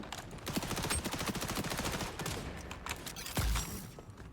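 Rapid automatic gunfire firing incendiary rounds in Call of Duty: Modern Warfare 2, a dense sustained burst of loud close shots with a heavy thump near the end.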